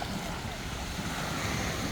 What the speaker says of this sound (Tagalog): Hindi masyadong malaki ang alon.